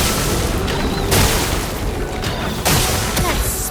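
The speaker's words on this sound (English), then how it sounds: "Sack attack explosion." A sack attack explosion in the video game Clair Obscur: Expedition 33 booms as a loud, dense roar, with a couple of sharp bursts punching through the continuous blast.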